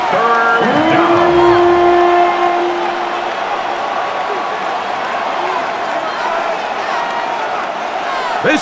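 Stadium crowd noise from a Madden NFL 26 football game, Jets against Dolphins, building ahead of third down: a steady, loud roar of cheering that swells early and holds under a commentator's voice throughout.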